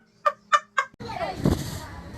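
A child imitates a zebra with three short, evenly spaced vocal bursts, loud and close, followed by a burst of noisy background commotion in a playful game of animal sounds.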